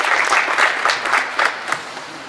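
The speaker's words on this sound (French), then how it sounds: "Je pense qu'on peut les applaudir" Lively crowd applause at a community gathering, dense clapping with a few sharper claps, fairly loud and fading slightly toward the end.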